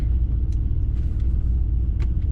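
A car engine idles steadily while warming up on a 38 °C morning, with oil still cold at about 28 °C. A close, continuous low rumble carries through with no talk.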